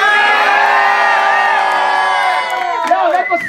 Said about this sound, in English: Let me hear some yelling!